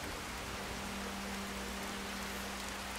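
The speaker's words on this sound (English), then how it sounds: "It's raining." Rain falls steadily in the video game Skyrim as an even, soft hiss of drops with a low hum beneath, quiet and unbroken, without talk.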